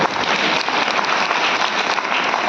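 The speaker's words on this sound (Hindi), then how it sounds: "इनके लिए जोरदार ताली चाहिए" Loud, dense applause from a crowd honouring farming families at a speech event, a steady unbroken roar of clapping hands lasting throughout with no talk over it.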